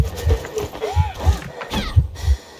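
A horse in the video game Conqueror's Blade, heard as a series of close thudding hoofbeats at an uneven running pace, with a short tonal whinny-like sweep partway through.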